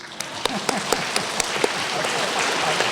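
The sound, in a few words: audience clapping with less dominant hand on top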